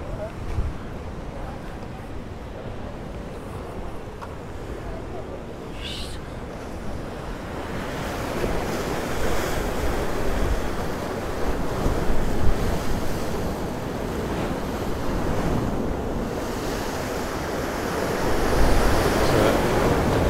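Rough sea surf crashes against the Ciudad Jardín promenade in Palma de Mallorca, a continuous roaring wash of breaking waves mixed with heavy wind buffeting the microphone, swelling louder in the middle and near the end.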